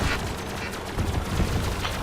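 Rapid bursts of gunfire from the robot combat game Robocraft, dense and loud, crackling continuously across the moment with heavier low thumps in the second half.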